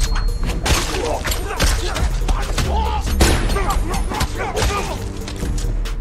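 Action-film gunfire rings out in loud, irregular bursts of shots mixed with heavy thuds and crashes, a dense, chaotic stretch of combat noise lasting about six seconds.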